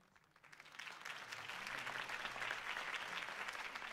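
A crowd claps in dense, sustained applause that swells quickly and holds steady at moderate loudness, in the video game Batman: The Telltale Series, Episode 1.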